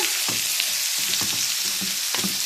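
Potato pieces fry with onions in a pan, a steady loud sizzle with several scraping stirs of a spoon breaking through at intervals; no voices.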